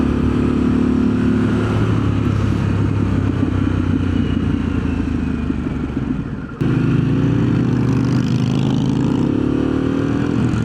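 A Harley-Davidson Pan America Special motorcycle engine drones steadily while riding, loud and close with wind rush, briefly dropping then rising again as the revs shift.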